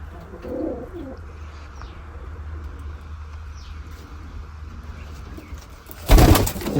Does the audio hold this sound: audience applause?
no